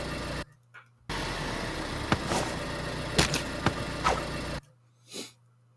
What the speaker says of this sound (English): let's go running idle car sound effect